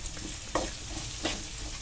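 Chili powder masala sizzles in hot oil for a garlic tamarind curry, a steady close frying hiss broken by a couple of soft stirring scrapes.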